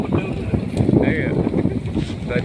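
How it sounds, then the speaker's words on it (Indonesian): Strong storm wind buffets outdoors ahead of rain, a loud continuous roaring rush with gusting that batters the microphone, while people speak over it. "Angin banter guys, mau hujan guys."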